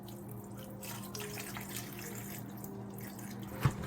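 Tap water running steadily into a kitchen sink while raw meat is washed with water and vinegar, a soft continuous flow with a brief knock near the end.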